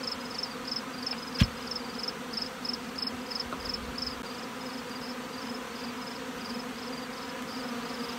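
Honey bees in a packed hive colony hum steadily and close, a continuous droning buzz with a brief sharp knock partway through and no voices.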